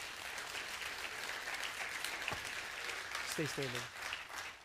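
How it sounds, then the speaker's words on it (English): A standing church congregation applauds in a faint, distant, sustained patter of clapping, with a brief spoken remark near the end. "Would everybody applaud that?"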